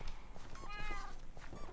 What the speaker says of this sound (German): Hier ist eine Katze hinter den Blumen.